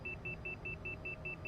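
Warning beeps from the Tailstrike Air World Tour flight game, eight short, evenly spaced high beeps repeating quickly over a low engine rumble.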